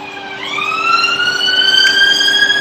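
Emergency vehicle siren wailing on a London street, a steady rising tone that swells and holds loud and fairly close for a couple of seconds, with no talk over it.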